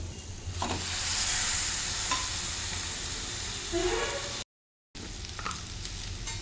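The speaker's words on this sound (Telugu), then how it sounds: "టమాటాలు క్యారెట్ క్యాబేజ్ అన్నీ ఫ్రై అయిపోయినాయండి ఇప్పుడు ఇందులోనే ఉడికించేసుకున్న పాస్తా వేసేసుకోవాలి" Tomatoes, carrot, cabbage and cooked pasta sizzle in a pan while being stirred and scraped, a steady close frying hiss with scattered clinks and a short gap near the end.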